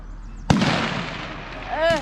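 Single sharp gunshot at an outdoor shooting range, a loud close crack with a short decaying tail, followed by a voice speaking.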